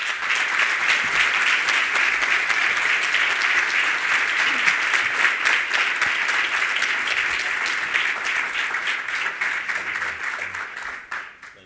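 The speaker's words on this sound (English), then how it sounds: "please help me welcome with a big round of applause, Mr. Arnold Donald." An audience at a business CEO roundtable event gives a big round of applause to welcome a speaker: loud, sustained clapping from a large crowd that tapers off near the end.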